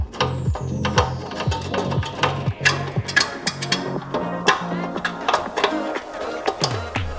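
Ratchet clicking rapidly while tightening bolts on the intake airbox of a 2024 Audi RS3 during a cold air intake install, close and steady bursts of sharp pawl ticks with short pauses between strokes.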